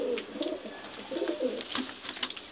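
Several pigeons coo softly and repeatedly nearby in a loft, overlapping low warbling calls in an enclosed space with faint background noise.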